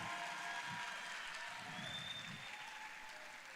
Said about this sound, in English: Can we please give Gaze Baba a round of applause?